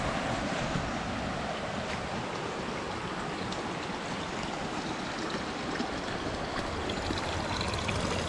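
Clean spring water flowing outdoors, a steady broadband rush and babble close by that continues evenly throughout with no talking.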